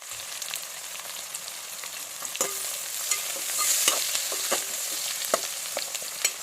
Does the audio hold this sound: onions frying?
yes